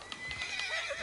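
A horse in the Red Dead Online video game whinnies briefly. The neigh is short and fairly faint over soft background game sound.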